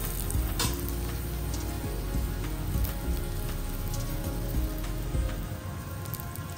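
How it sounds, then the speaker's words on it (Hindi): A stuffed paneer paratha sizzles steadily in ghee on a hot tawa over a medium-high flame, a loud, continuous crackling hiss with small spattering pops and no voices. "इस तरह से आपको पराठे को अच्छे से सेक लेना है।"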